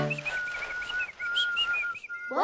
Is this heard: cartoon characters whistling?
yes